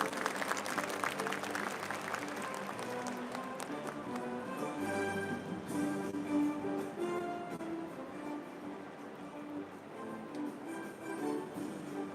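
An audience at a formal ASEAN launch ceremony in Thailand claps to welcome three guests onto the stage, steady clapping mixed with background music and crowd murmur throughout.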